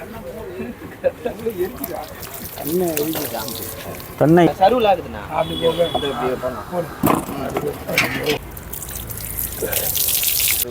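Water splashes and trickles as it is poured, running under excited voices talking nearby.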